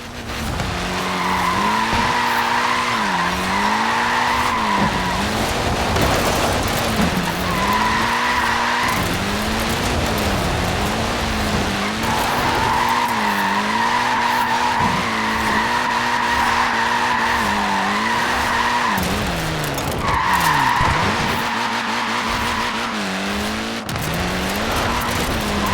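Tyres squeal and skid continuously as a short-wheelbase, front-wheel-drive car slides through corners in the racing game Forza Horizon 4, engine droning loud and steady underneath with wavering pitch across repeated drifts.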